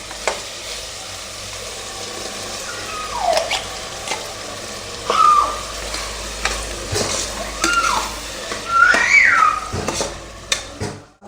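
Vegetable pulao masala paste frying in a pan, with a spoon repeatedly scraping and stirring through it over a low continuous sizzle, giving several louder bursts of clatter and scraping, no speech.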